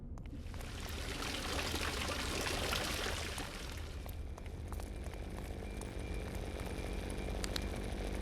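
Water pours steadily from a spout in an apartment video game, a continuous loud rushing flow with no talk over it.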